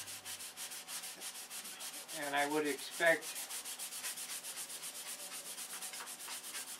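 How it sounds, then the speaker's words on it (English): Hand sanding of a model's surface during finishing work, a steady close rasping rub that runs through the clip, with a short voice passage partway through. "I've been sanding at least 10 hours today"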